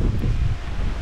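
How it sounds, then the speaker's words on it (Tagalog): Strong wind buffets the microphone on an exposed, grassy hiking trail in Dingalan, a loud, constant low roar of gusts with faint rustling of vegetation and no voices. "Sobrang mahangin and then matalahib sa part na to."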